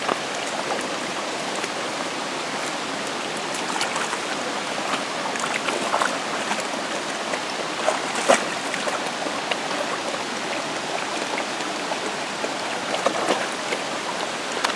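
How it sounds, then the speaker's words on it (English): Steady rushing creek water at Goforth Creek, a continuous broadband wash of flow and splashing that stays fairly loud and even throughout, with no voices. "Now we're down here at the actual creek."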